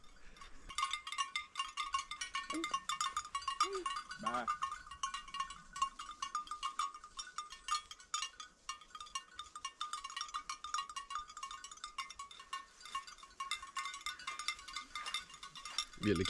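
Sheep bleat a few times early on at an island campsite, fairly faint and set against a steady, bright outdoor hiss, with long stretches of quiet ambience afterward.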